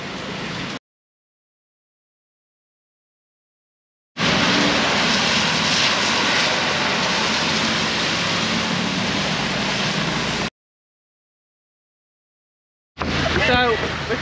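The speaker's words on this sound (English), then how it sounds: "The hotel have come and picked us up in the back of a 4x4 and it's pissing it down." Heavy rain drums on the back of a 4x4 pickup in Ratchaburi, Thailand, with loud, steady wind and engine roar in bursts separated by dead silence.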